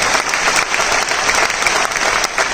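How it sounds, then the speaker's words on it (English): Audience at the launch of a song, with Finance Minister Nirmala Sitharaman present, claps in loud, dense, continuous applause, close and alone. "Please clap for them."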